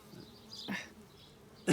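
Honeybees hum around an open package hive during an eight-week inspection, a faint steady buzz with a few louder close passes near the microphone.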